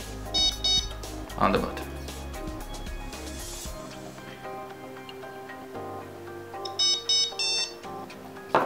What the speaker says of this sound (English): This is the last beep.